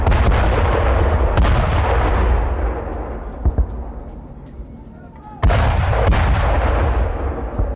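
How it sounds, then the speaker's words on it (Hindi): Air strike explosions at an oil depot in Tehran: heavy, booming blasts with long rolling reverberant tails, one big hit early, a couple of sharper thuds midway, then another loud booming blast, rumbling and distant-sounding. "तेहरान में ऑयल डिपो पर एयर स्ट्राइक की गई।"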